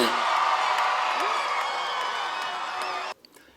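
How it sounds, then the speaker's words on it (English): Graduates at a high school commencement cheer "Roll Hats" together while tossing their caps, a loud, dense crowd roar with whoops filling about three seconds before cutting off abruptly to near quiet. "join me in a Roll Hats cheer while throwing our caps"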